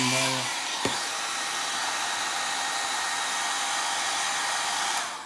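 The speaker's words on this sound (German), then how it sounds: "Ich mache das jetzt mit dem Föhn erstmal warm." A hair dryer blows hot air onto a glued MDT KNX glass switch, a loud, steady whooshing roar held nearly unbroken for about four seconds after a brief click, then cutting off.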